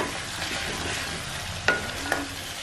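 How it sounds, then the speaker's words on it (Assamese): Ginger, garlic and garam masala fry on a low flame for an Assamese mutton curry, giving a soft continuous sizzle with two sharp clinks of a utensil against the pan near the end. "গেছটো একেবাৰে ল' ফ্লেমত ৰাখি ভাজিছো"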